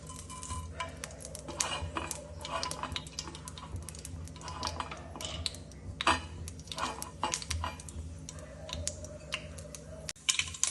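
Mustard seeds spluttering in hot sesame oil while tempering coconut chutney: rapid, irregular crackles and pops, fairly faint and close, with a few louder snaps near the end.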